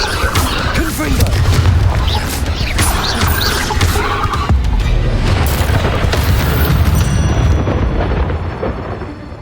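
An explosive Confringo spell goes off in a video game, a loud booming blast with crashing debris that rumbles on and slowly fades near the end.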